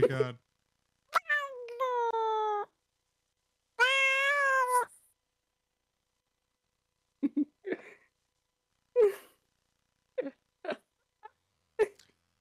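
A cat meows several times, a few long wailing cries followed by shorter, quieter mews spaced irregularly apart, heard close up with no one talking over them.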